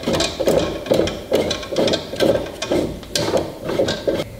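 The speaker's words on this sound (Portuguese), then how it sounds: "Rosquear." A lubricated wooden screw is turned into the threaded holes of an antique wooden press under restoration, giving a steady series of close, rhythmic creaks and clicks from wood rubbing on wood.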